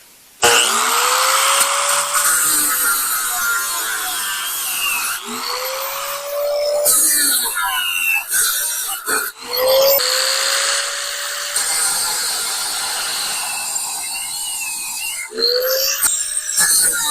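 A high-pitched power tool whines loudly at close range while bolts are backed out of a welder being scrapped, revving in bursts with brief pauses and pitch sweeps as each bolt spins loose.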